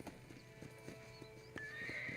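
Rhythmic clip-clop of horse hooves at a steady pace in the video game Red Dead Redemption, followed by a high, drawn-out horse whinny near the end, fairly quiet overall.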